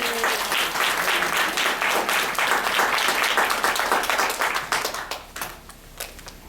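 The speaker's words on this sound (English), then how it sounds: "So let's give President Brooks an applause." Audience applause for President Brooks at a Karnak Wellness Institute lecture, a dense crowd clapping steadily and loudly before thinning into scattered claps and fading near the end.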